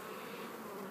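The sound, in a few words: honey bees buzzing on queen cells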